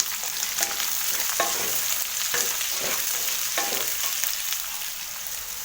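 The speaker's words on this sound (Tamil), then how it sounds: "அதையும் போட்டு வறுத்துக்குவோம். வெங்காயத்தை நல்லா வதக்கிக்கோங்க." Small onions and green chillies sauté in hot oil with a continuous, loud sizzle. Scraping stirs recur every second or so throughout.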